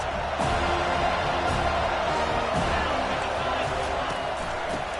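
Stadium crowd in a College Football 25 video game roars and cheers continuously at a steady, loud level throughout, a dense wash of noise with occasional swells.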